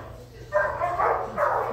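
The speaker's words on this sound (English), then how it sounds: "Well, that one just barks at everything." A dog barks in short, sharp bursts close by, a few quick yaps over roughly a second and a half.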